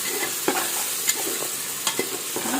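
Coriander and curry leaves frying in oil in beetroot curry with tomato, a steady close sizzle broken by several sharp stirring scrapes of a spoon against the pan.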